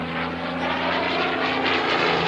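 Propeller aircraft flying past at an evening air display, a steady loud engine drone with strong low harmonics holding for a couple of seconds without talk.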